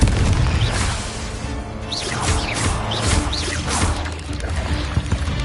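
A Confringo blasting spell in Hogwarts Legacy makes a loud, booming explosive burst with crackling debris and whooshing sweeps, layered over continuous noisy game sound.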